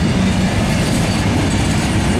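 A Norfolk Southern manifest freight train pulled by Dash 9 and AC44C6M locomotives rolls past near Gaffney, a loud, close, continuous rumble of railcars with rhythmic wheel clatter and faint squeal, alone without speech.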